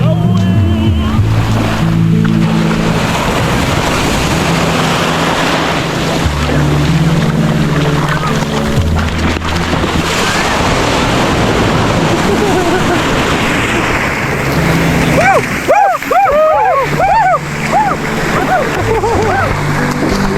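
Sea waves wash and splash continuously along a beach shore with a steady roar of surf, while people talk over the water noise.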